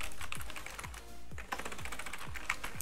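Fingers type on a Razer gaming keyboard up close, giving a quick, irregular run of crisp key clicks and thocks with no talking.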